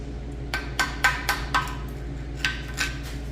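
Metal pry bar scraping and knocking old gasket material off a Ford 8BA flathead engine, a series of sharp close clinks and scrapes, several in quick succession, then two more after a short pause.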